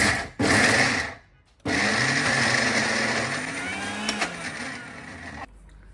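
A mixer grinder runs loud and close, whirring through soaked batter for radish or okra vada, with a short pause, then a steady grinding drone that eases slightly before cutting off.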